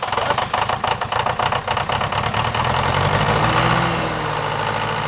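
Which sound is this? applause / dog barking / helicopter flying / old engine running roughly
old engine running roughly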